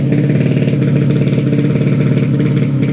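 An MX85 motocross motorcycle engine idles steadily close by at a race, with a dense, throbbing low rumble that holds an even pace throughout without revving.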